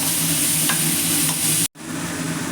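Tomatoes fry in a pan with a steady close sizzle while being stirred, with faint scrapes scattered through and a brief silent cut near the end before the frying hiss resumes; no voices.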